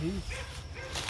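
A short dog bark or yip at the start, followed by quiet outdoor ambience with faint distant noise.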